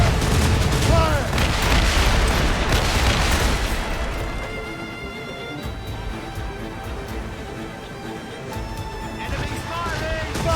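Naval cannon broadside in Assassin's Creed Rogue, heavy booms and crackling volleys packed into the first four seconds, then scattered distant shots and a tonal battle score, with shouted voices over the fighting.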